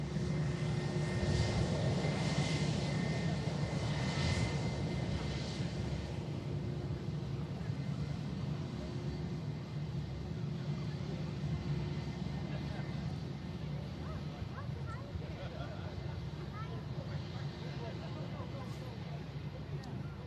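Air France Embraer E170 jet at Manchester Airport producing a steady, distant engine roar that fades slightly over time, with a voice talking over it.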